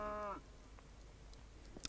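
A single short cow moo from Minecraft sounds at the start, a brief tonal lowing that cuts off quickly, followed by near-silence with a few faint clicks.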